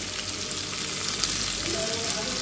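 Sliced onions and slit green chillies fry in a pan for a fish biryani, giving a steady, even sizzle with a few faint stirring scrapes close by.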